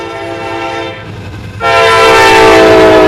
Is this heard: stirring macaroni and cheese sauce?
no